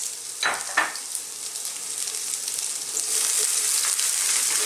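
Onions fry in a pan for squid adobo, giving a close, steady sizzle. A couple of stirring scrapes come near the start, and the sizzle grows slightly louder toward the end.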